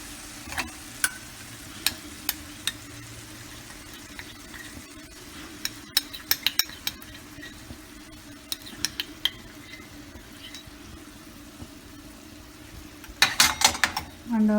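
Garlic chicken fries in a pan with soy sauce, ketchup and honey, a steady low sizzle under sharp clicks and scrapes of stirring and spoon taps, busier and louder toward the end.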